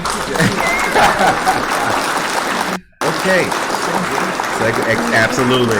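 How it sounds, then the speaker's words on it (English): A studio audience claps enthusiastically on a live morning show, sustained applause with a brief cut of silence midway before the clapping resumes, with voices mixed in. "Clap if you love it."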